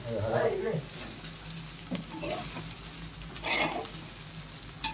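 Khichdi stirred in a twenty-year-old kadhai with side handles, a soft scraping and sizzling texture with a few louder spoon strokes, under a faint voice.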